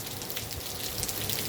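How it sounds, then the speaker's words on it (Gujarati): Steady light rain falls over Jamnagar city, a soft continuous patter of drops on surfaces without any voices. "વરસાદ ચાલુ છે જામનગર શહેરમાં"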